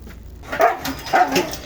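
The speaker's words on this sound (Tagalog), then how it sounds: "Yan yung aso ko." A dog barks twice nearby, short yappy barks about half a second apart, loud and clear.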